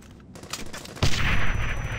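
Sustained MG machine-gun suppressing fire in the World War II game Brothers in Arms: Hell's Highway: a loud burst of rapid gunfire breaks in after a quieter moment and keeps rattling without letup.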